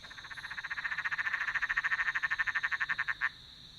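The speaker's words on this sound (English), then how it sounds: "How about these frogs?" A chorus of frogs croaking at night, a fast regular pulsing trill of rapid calls that swells over a couple of seconds, holds steady, then cuts off, with a steady high insect-like whine behind it.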